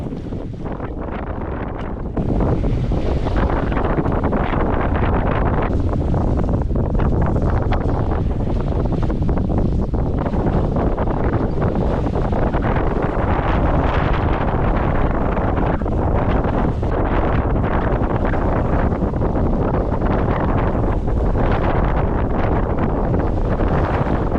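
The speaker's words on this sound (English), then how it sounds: "Well, now the wind's picking up." Strong wind gusts over a sailboat in rising wind, with dense, steady roaring buffeting on the microphone and rushing noise throughout; no talking.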